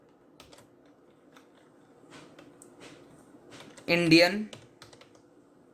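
Java code is typed on a computer keyboard: rapid, close, crisp key clicks tap along steadily, interrupted once by a short spoken word midway.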